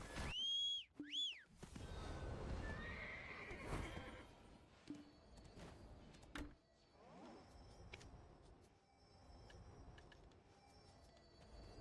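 A horse whinnies loudly near the start, followed by snorts and shuffling amid ambient game sounds and music in Black Desert, then quieter background noise.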